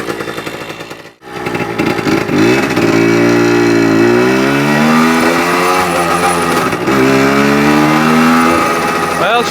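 A Yamaha DT 100 motorcycle engine, needing more carburetor work, runs loud and close, climbing through several revving pulls and holding steady after one brief cutout near the start.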